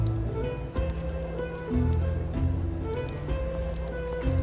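Steady rain patters and drips in the video game Expeditions: Rome, a soft continuous wash running under a bed of tonal game music for the whole stretch.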